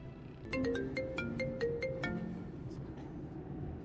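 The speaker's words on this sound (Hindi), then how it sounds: "मामू की कॉल आ रही है।" A mobile phone ringtone for an incoming call plays as a short repeating melodic chime over a low background hum, clearly audible, then fading out after about two seconds.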